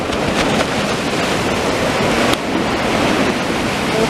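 Sea waves break and wash steadily on a driftwood-strewn shore beneath a pier, a loud, continuous roar of surf with wind noise.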